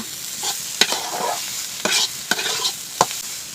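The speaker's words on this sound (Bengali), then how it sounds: "এবার কিন্তু সব পুরো মানে সব সবজির সঙ্গে কিন্তু আমি ডিমটা মিশিয়ে নেব" Beaten egg is stirred into fried vegetables in a hot pan for egg momo filling, with close, repeated scraping strokes over a steady sizzle.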